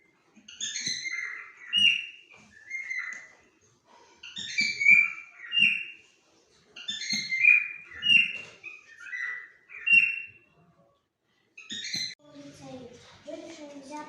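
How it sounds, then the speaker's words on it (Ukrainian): A pet cockatiel parrot sings close up in repeated bright whistled phrases, pausing between bursts, with a voice speaking briefly near the end. "Спочатку папуга просто кричав по-своєму, а в лютому місяці почав співати."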